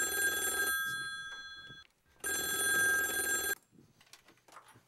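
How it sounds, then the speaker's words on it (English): A telephone bell rings in two long, loud bursts separated by a short gap, then cuts off, leaving faint room noise with no talking. "that's Scoop's phone"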